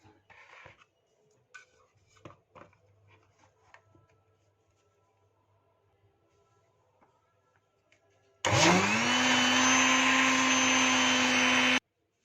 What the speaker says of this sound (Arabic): هنضرب كل المكونات ديت في الخلاط